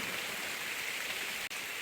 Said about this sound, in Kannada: ಜೋರು ಮಳೆ ಬಂತು. ಮಳೆ ಬಂದಾಗ ಮದ್ದು ಬಿಡ್ಲಿಕ್ಕೆ ಆಗುದಿಲ್ಲ.